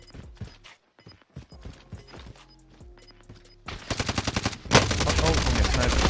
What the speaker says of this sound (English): He's getting shot from down low.